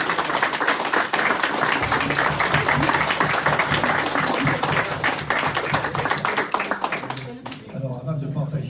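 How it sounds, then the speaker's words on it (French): Guests at a Galette des Rois party applaud one another, a dense, lively burst of clapping in a room that carries on for about seven seconds before a voice takes over. "je pense qu'on pourrait tous s'applaudir mutuellement"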